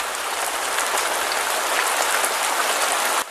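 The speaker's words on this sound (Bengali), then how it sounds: "রাত হতেই হঠাৎ প্রচন্ড ঝড় বৃষ্টি হতে শুরু করে" Heavy cartoon storm rain pours as a loud, dense, unbroken hiss of falling water, then cuts off abruptly just before the end.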